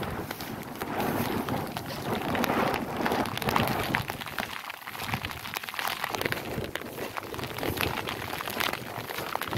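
Wind gusts roar over a rice paddy in heavy rain, a loud churning rush with crackling spatters, dipping briefly midway before surging again.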